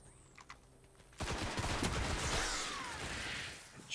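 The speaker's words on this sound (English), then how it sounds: "Well, obviously, it's a shotgun." A shotgun fires in the video game Destiny, a sudden loud burst after quiet, followed by rattling gunfire and echoing debris that fade over a couple of seconds.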